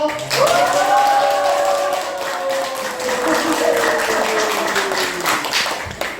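Church retreat audience applauding and cheering to welcome a pastor as he stands for a special lecture, a steady wash of clapping lasting the whole stretch alongside raised voices and cheers.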